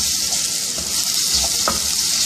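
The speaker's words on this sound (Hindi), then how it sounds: "इसको हम 1 मिनट तक भूनेंगे" Onions browned to light golden, frying in oil with ginger garlic paste, giving a steady close hiss of sizzling with a few soft stirring scrapes and no talking.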